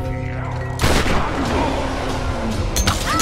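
A grenade is launched in Tomb Raider, a sudden heavy blast cutting through a low musical drone, followed by a rumbling tail and a couple of sharper cracks near the end.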